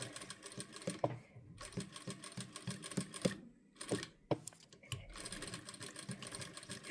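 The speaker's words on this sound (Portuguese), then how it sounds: "E eu vou passar uma costura bem aqui, ó, dentro dessa costura aqui, só para prender a minha ombreira no ombro" A sewing machine runs a short seam to tack a shoulder pad inside a Chanel-style jacket, stitching in quick bursts with brief pauses between runs, close and fairly loud, with no talking.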